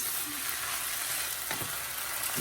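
Chicken fried rice sizzles steadily in a pan, a continuous bright frying hiss with a brief scraping stir midway and another near the end, close and fairly loud with no talking.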